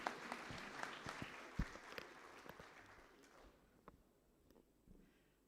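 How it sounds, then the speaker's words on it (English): An audience in a hall claps to welcome a guest speaker on careers in the Armed Forces Medical Services; fairly faint, dense applause that thins and fades over about three seconds, leaving scattered quiet claps. "Please welcome him with a huge round of applause."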